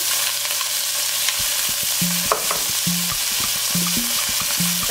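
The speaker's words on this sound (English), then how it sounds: "I'm gonna start adding my green peppers. Cilantro." Green peppers and cilantro fry in hot oil in a pan for sofrito, giving a steady close sizzle while a spoon stirs and scrapes in repeated knocking strokes, with no talking.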